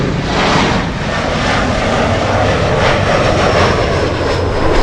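A Lufthansa airliner taxiing at LAX, its engines a loud, steady broadband roar with a thin high whine that holds evenly throughout, close by and without pause.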